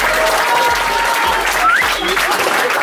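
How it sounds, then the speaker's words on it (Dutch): An audience applauds a university at a book presentation, a sustained bed of clapping with a few voices rising above it. "En nog eventjes een applaus aan de universiteit van Prinsenhaag."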